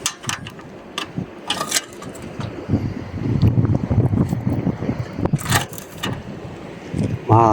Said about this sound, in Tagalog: Mahangin ah.